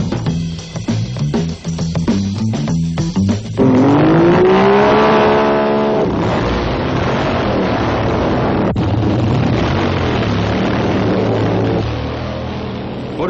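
Motorcycle sidecar racing, where the passenger hangs off one side, with sharp revving bursts, then a loud engine whine sweeping upward in pitch as a machine accelerates past, fading into a sustained mixed roar of engines.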